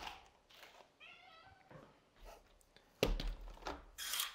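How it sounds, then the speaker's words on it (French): A cat gives a short, rising meow indoors as it is let in, followed by knocks and rustling of a door or furniture, all fairly quiet. "je fais rentrer le chat deux secondes"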